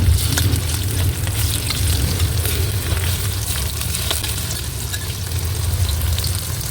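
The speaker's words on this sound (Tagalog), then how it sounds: "Mainit na guys yung ating mantika kaya maglalagay na tayo ng ating tokwa." Tokwa (firm tofu) sizzles and crackles steadily in hot oil in a pan. The frying noise is loud and continuous with scattered pops.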